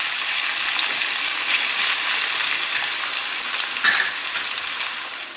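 A bright, constant sizzle of potatoes frying in hot oil, close and fairly loud, with no voices over it.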